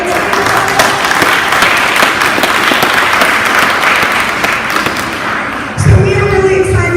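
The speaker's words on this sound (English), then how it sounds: "Let's give them a round of applause." A school audience at a senior parent night claps loudly and continuously for several seconds, then the applause cuts off and a speaker's voice begins close by.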